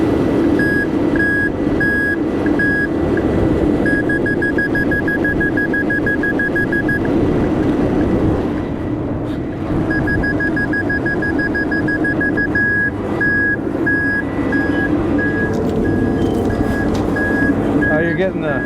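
Truck reversing alarm beeping steadily in regular pulses as a Casagrande drill rig is backed off a heavy-haul trailer, with a loud diesel engine rumble underneath and people talking nearby.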